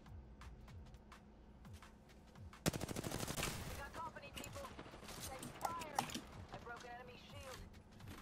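Video game gunfire in a battle-pass shooter, a sudden rapid automatic burst followed by scattered single shots and clatter, mixed with game effects and distant voices.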